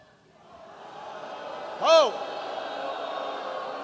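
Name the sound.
crowd booing at Obama rally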